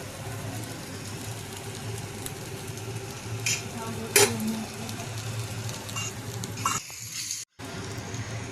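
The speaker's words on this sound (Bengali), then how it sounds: "দেখো এখন নেড়ে নিচ্ছি ভালোভাবে চাউমিনটাকে" Veg chowmein being stirred in a frying pan, soft scraping and tossing over a low continuous sizzle, with a brief sharp clink of utensil on pan midway.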